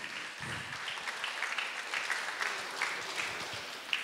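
Audience applause at the Snehalaya Fashion Fest 2023 show: a steady, dense wash of clapping from a crowd, sustained and fairly even for several seconds with no talking over it.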